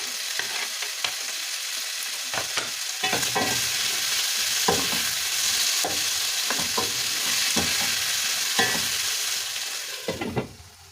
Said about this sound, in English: Then we'll add our tomatoes.